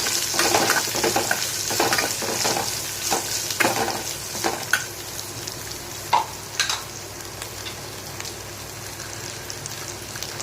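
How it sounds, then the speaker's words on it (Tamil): Round slices of ivy gourd sauté in a pan with mustard seeds, giving a steady close sizzle and frying crackle with scraping stirring strokes and occasional pops, easing as the cooking settles. "கோவக்காயை இந்த மாதிரி ரவுண்டாக அரிஞ்சு வச்சுருக்கேன், நல்லா கழுவி வச்சுருக்கேன். இதை வந்து இப்போ நம்ம அதில் போட்டுக்கலாம். நல்லா வதக்கி விடுங்க."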